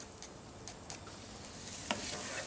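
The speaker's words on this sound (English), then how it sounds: "Now the onions and garlic are sweating down nicely" Onions and garlic sweat in a pan over medium heat, giving a faint, close, steady sizzle with a few light ticks and crackles.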